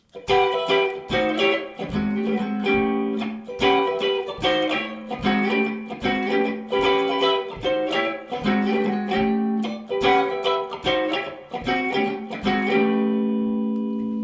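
Electric guitar strums rhythmic A seventh and A ninth blues chords in short, punchy stabs with slides between them, steady tempo, ending on a ringing chord.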